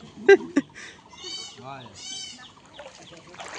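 A goat bleats in a village during a flood, several wavering nasal calls close by, mixed with a couple of sharp knocks at the start and some background noise.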